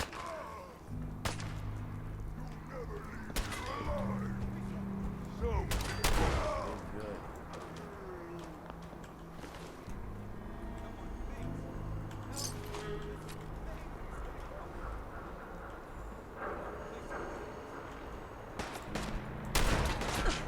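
Gunfire in the video game Fallout 4, sharp broadband cracks and bursts scattered irregularly over a steady low game hum, with a voice talking over parts of it.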